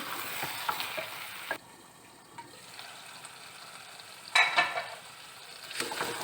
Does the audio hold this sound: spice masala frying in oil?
yes